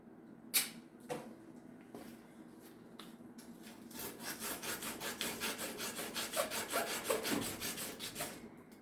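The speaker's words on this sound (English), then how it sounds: "it's pipe sandpaper." Pipe sandpaper scrubs a copper pipe in quick back-and-forth strokes. Scattered scrapes and taps come first, then a steady rhythmic rasping settles into about a dozen even strokes, heard up close.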